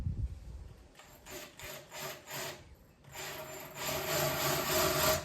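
A drill with a concrete bit bites into a concrete paver in short grinding bursts, then runs in one longer, louder continuous stretch, close up, indoors.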